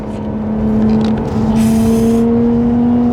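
A Lotus Evora's engine revs hard under acceleration, a loud, steady, rising mechanical roar heard from inside the car that holds without a break throughout.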